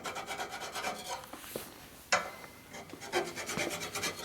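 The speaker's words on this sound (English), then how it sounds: "You don't want to file it too much because it takes off your register marks." A hand file rasps across a 1942 Harley-Davidson WLC/WLA 45ci motorcycle frame during restoration, with quiet, close, repeated scraping strokes in an uneven rhythm and a brief knock partway through.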